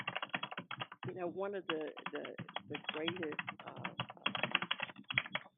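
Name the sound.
typing on a computer keyboard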